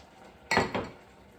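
Crumble topping tipped over rhubarb in a baking dish in a home kitchen, giving two short clattering bursts of dish contact close by and fairly loud, then quiet.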